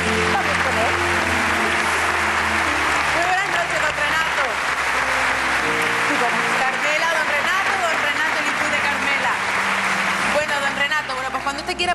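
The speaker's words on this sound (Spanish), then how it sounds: "vamos a recibirlo con un fuerte aplauso con todos ustedes, don Renato Lizpute" Loud, sustained applause from an audience welcoming a politician onstage at a New Year's Eve comedy show, a dense continuous roar of clapping that fills the room from start to finish.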